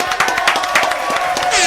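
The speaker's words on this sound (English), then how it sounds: "We clap it up one time." Studio guests on a talk show clap together to welcome a guest, a brief burst of close, busy clapping with some voices mixed in.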